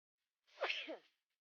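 One short, sharp sneeze up close, a quick breathy burst that rises and cuts off within about half a second, alone against silence.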